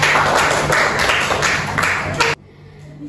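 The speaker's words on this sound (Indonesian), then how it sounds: "Tepuk tangan untuk Rika" Classmates clap for a student during a peer-teaching lesson in a classroom, a brisk burst of many hands that stops abruptly, leaving near silence.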